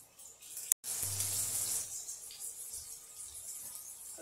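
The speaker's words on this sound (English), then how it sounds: "I'm going to go wash my hands" Kitchen tap water running into a sink for handwashing, a steady close hiss that starts after a sharp click, swells, then settles into a softer continuous flow for several seconds.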